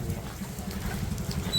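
Steady patter of monsoon rain falling during a birthday gathering, a dense continuous low rumbling wash with soft scattered drops, nearby and fairly loud throughout.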